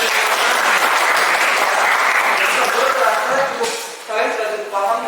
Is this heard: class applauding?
yes